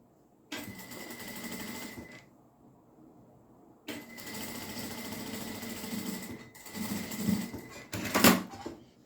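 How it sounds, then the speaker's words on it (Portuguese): A sewing machine stitches an Easter carrot keepsake made of EVA foam and EVA fabric, running in two steady bursts separated by a pause, then a short final spurt, close and fairly quiet. "Aí, a gente vai fazer uma costurinha pra prender tudo."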